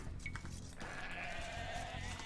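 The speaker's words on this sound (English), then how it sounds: "Oh, more sheep." Sheep bleat during an Age of Empires 2 match, a short tonal call followed by a sustained wavering bleat over steady game background sound.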